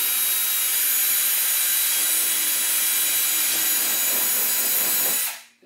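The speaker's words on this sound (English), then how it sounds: "And drill all the way through" A power drill runs continuously at high speed, boring through a golf cart enclosure panel for a kit installation, loud and steady with a harsh grinding whine before spinning down at the end.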